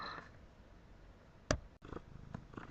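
A cat purrs softly close up in a low rumbling drone, with one sharp brief click partway through.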